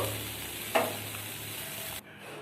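Hot water poured into a pan of fried pointed gourd and shrimp, a sharp burst of hissing sizzle followed by steady frying noise, close and alone, then fading quieter near the end.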